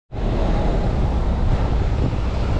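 Steady, heavy roaring noise of strong wind buffeting the microphone, constant and loud throughout with no voices.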